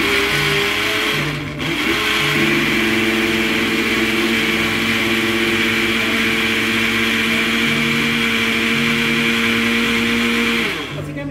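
A kitchen blender runs at a loud, steady whine while beating flan batter with vanilla, briefly dipping once near the start before resuming and stopping at the end.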